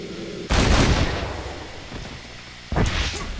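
Two loud, sharp gunshots ring out in Red Dead Redemption, spaced about two seconds apart. Each booms up close and trails off in a short echoing decay.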